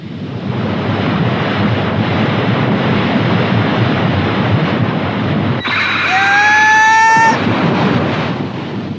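Steady roaring ocean surf washes on without a break, loud and close. Partway through, a brief high whistling sweep rises above the roar.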